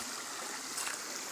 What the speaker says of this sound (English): The water that is running, they say that it is fresh.